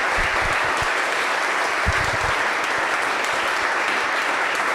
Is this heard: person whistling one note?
no